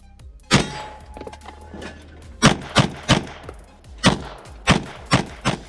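Pistol gunshots at a steel popper target during an IDPA state championship stage, a sharp crack followed after a pause by a rapid string of about eight loud shots in uneven pairs and singles, some ringing off steel, heard outdoors without speech.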